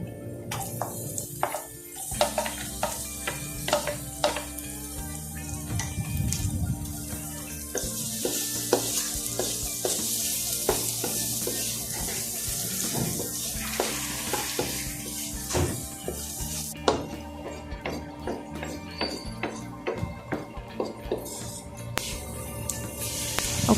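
Garlic and onion sauté in a hot pan for chicken with pineapple, a steady close sizzle broken by frequent scraping and stirring clicks of a utensil against the pan throughout.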